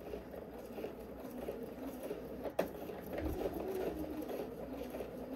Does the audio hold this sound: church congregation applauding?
no